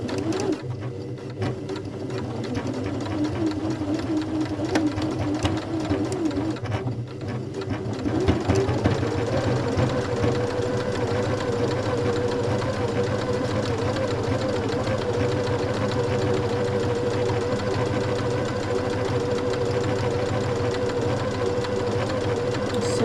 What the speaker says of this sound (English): So I need to fill up my bobbin, set up my machine and get these darts done.